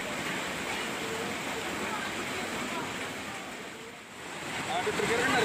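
Floodwater rushes after heavy rain in Gianyar, a dense, steady roar of moving water that dips briefly and then swells again.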